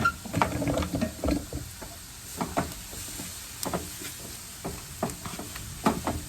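Meat and zucchini sautéing in a pan, with irregular crackles and spattering pops from the food, separate clicks and scrapes of stirring, and quiet pauses in between.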